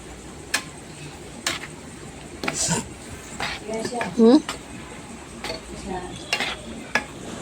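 Gram flour (besan) being stirred in hot ghee with a small spatula, giving intermittent light scraping ticks and soft sizzle, with a brief voice murmur in the middle.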